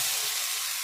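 Loud, close frying hiss as pre-fried potatoes go into sizzling, well-cooked masala in a pan for aloo dum, a brief continuous sizzle with no voices.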